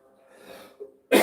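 A man coughs once, close and loud, after a stretch of quiet breathing and a soft throat noise, a single sharp burst that ends the moment.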